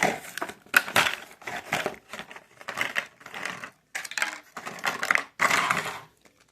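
A Hot Wheels 1:64 monster truck package is torn open, giving bursts of crinkling and snapping plastic and cardboard in quick irregular clusters with short pauses, close and fairly loud, no talking.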